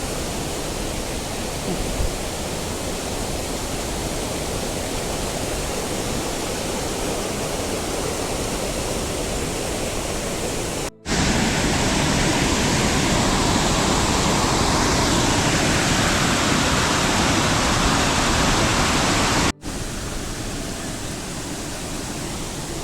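Hidden waterfall in the green hills of Coorg, heard from its top: a steady, loud, dense roar of falling water that runs unbroken and close by, with two brief cutouts and no talk.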